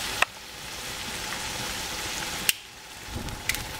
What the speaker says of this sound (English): Just pour that over the top, and then you'll see it sizzle.